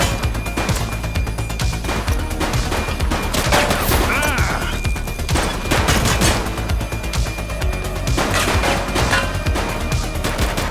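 Sustained bursts of automatic gunfire and rapid shots from a police shooter video game, The Precinct, loud and continuous with dense overlapping volleys and a few crashes throughout, no speech over it.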